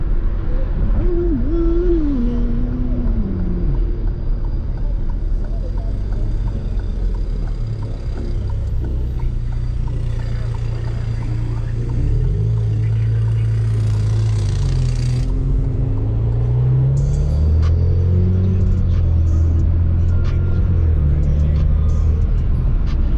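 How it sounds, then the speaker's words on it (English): A Toyota MR2 engine in eco mode hums steadily at low pitch, its tone rising and falling gently as it cruises at night, heard from inside the car without any speech. "I feel like when I'm in eco mode, I'm able to hear the car way better."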